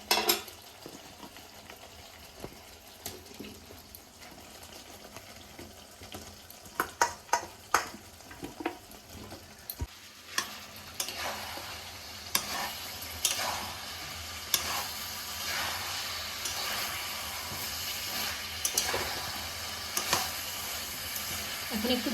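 Masala frying in a pan with raw jackfruit, a steady crackling sizzle throughout with intermittent scraping clicks of stirring, growing busier and louder after the jackfruit goes in partway through.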